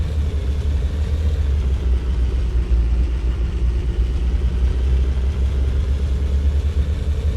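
A tank engine in the game Sprocket rumbles steadily with a deep, even drone that holds constant throughout, loud and alone with no talking.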